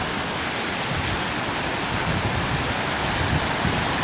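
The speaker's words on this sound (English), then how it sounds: "waterfalls and rapids coming here to the bridge" Steady, loud roar of waterfalls and rapids pouring beneath a bridge nearby on the Snowbank Trail in the Boundary Waters, broadband and unbroken throughout.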